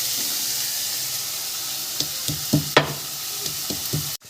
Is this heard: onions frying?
yes